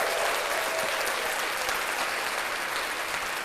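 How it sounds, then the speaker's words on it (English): A podcast studio audience claps for the cameraman, a dense, steady burst of applause that stays even and fairly close for a few seconds. "let's clap that up"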